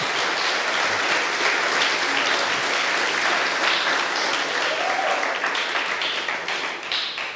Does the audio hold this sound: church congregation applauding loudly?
yes